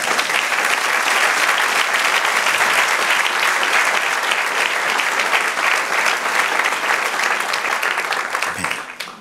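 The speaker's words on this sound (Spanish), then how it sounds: "Denle un aplauso al Señor, amén." A church congregation applauding during a sermon, loud and dense clapping filling the room for several seconds before fading out at the end, with no voices over it.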